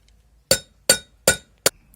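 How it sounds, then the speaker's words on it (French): Four sharp metallic taps of a cold chisel on the bearing ring of a Golf 3 TDI rear wheel bearing, evenly spaced and close, each a bright ringing clink with a quick decay. "je m'ai assuré qu'elle est bien finie de rentrer en tapotant des petits coups là avec le"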